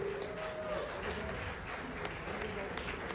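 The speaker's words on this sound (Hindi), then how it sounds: "जोरदार तालियां।" Audience applause at a network marketing awards event, a steady even clatter of many hands lasting a few seconds, with a faint voice and a short tone sounding over it early on.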